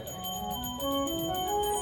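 A small hand bell rings rapidly and repeatedly during a Hindu Bhagavata katha gathering, bright metallic strikes over a steady background drone.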